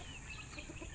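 Peruvian-bloodline hens clucking softly and steadily close by, a brief low murmur from farm chickens with no voices over it.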